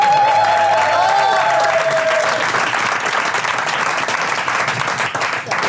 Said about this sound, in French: on applaudit encore Antoine, s'il vous plaît.